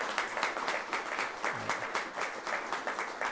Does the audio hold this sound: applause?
yes